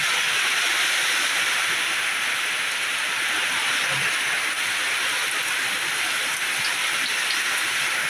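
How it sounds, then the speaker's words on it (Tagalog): Heavy rain pours steadily outside a cave, a dense, unbroken hiss of drops hammering a surface with no pauses. "malakas ang ulan yan"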